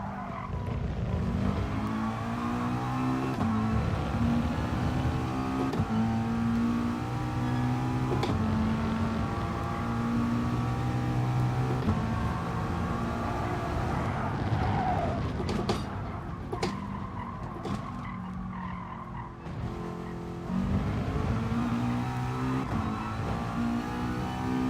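A McLaren 650S races in Gran Turismo Sport, its engine droning and revving continuously at moderate volume while tires squeal and skid through corners.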